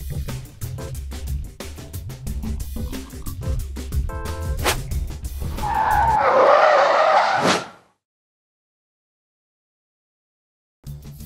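A 2023 Tesla Model S Plaid's tyres squeal and skid hard through a moose-test dodge manoeuvre, a loud rising screech over road and motor rumble that cuts off abruptly into silence.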